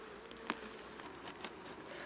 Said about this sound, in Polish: Tak widzimy, pszczół jest całkiem sporo